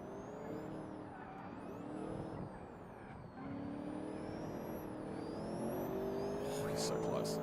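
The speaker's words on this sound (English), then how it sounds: "That supercharger sounds unusual." A supercharged car racing in the BeamNG game, its engine droning and whining steadily throughout, rising in pitch near the end, with another car close behind; fairly quiet overall with talk over it.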